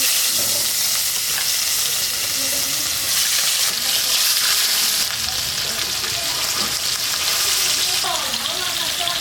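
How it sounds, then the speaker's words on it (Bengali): Rohu fish frying in hot mustard oil in a wok, a steady close, loud sizzle with crackling spatter running throughout, with a few faint clinks near the end. "আমার তেল গরম হয়ে যায়, মাছটাকে দিয়ে দেবো কড়াইতে।"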